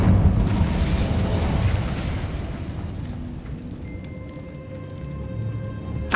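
A deep, roaring boom from the Incendio fire spell in the Hogwarts Legacy video game, loud at the start and rumbling as it fades over several seconds, with faint tonal game sounds near the end.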